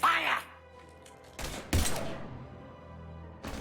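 A few heavy shots ring out in modded Mass Effect 3 as isolated loud thumps between stretches of quieter game ambience, with voices talking nearby.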